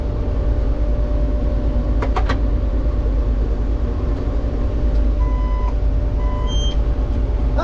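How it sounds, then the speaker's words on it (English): x "Don't know what the heck that beeping's for, but it's definitely something with the GPS."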